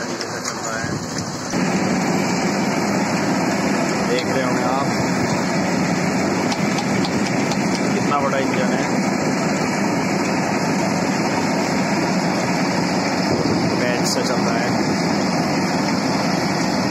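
Large engine powering a stone crusher, a loud, continuous heavy rumble and clatter that holds steady throughout, with someone talking over it.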